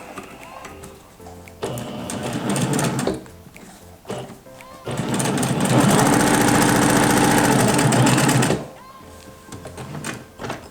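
A sewing machine stitches patchwork fabric placed right side to right side, whirring in short bursts and then one longer steady run, loud and close, with brief pauses and handling noises between the runs.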